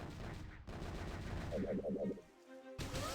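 Deployable turrets fire in the Boom Beach mobile game, rapid bursts of synthetic gunfire under a dense game soundscape, with a short tonal effect in the middle and a loud burst at the end.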